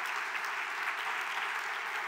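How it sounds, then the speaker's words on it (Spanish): A church congregation applauds in a steady, even wash of clapping, fairly faint and distant, continuing without pause and with no speech. "eso es para darle un aplauso impresionante a Dios."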